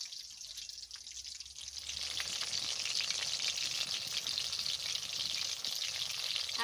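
Chicken with garlic and spices fries on low heat in a pan, a steady close-up sizzle that swells louder after a couple of seconds and continues evenly.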